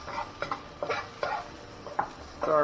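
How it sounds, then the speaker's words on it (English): Spoon stirring onion and garlic in a cooking pot, a series of light scraping clinks repeating at an uneven pace, close and fairly quiet with no talk. "Sorry about the noise from the spoon."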